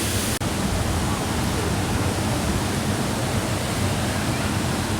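Steady, loud rushing roar of waterfalls at Amnicon Falls State Park, an unbroken wash of falling water close by.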